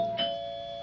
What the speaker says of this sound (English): Who's that? Doorbell.